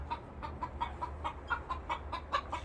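Araucana chickens clucking close by on a farm with apple trees, a steady run of short rhythmic clucks, about a dozen in under three seconds, over low background hum.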